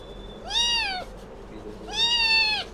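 A cat meows twice, loud and close, each drawn-out cry lasting about half a second with a pause between, over a faint background hum.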